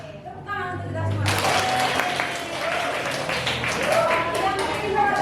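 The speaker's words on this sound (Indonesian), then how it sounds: "Tepuk tangan untuk kita semua." A classroom of Indonesian eighth-grade pupils bursts into loud, sustained group clapping after a brief quiet start, dense and steady until the end.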